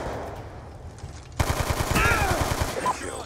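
Rapid automatic gunfire from Black Ops 2, rattling close and loud in quick repeated bursts after a quieter stretch of game background noise.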